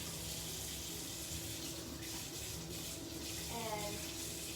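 A kitchen tap runs steadily while organic zucchini are rinsed and scrubbed, a faint continuous splash of water with a brief change in tone near the end.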